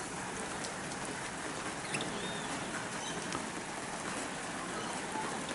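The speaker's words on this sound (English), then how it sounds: "And this rain is so beautiful and so welcome." Steady rain falling outdoors where parrots feed, a dense, even hiss and patter that holds unchanged throughout with no talk.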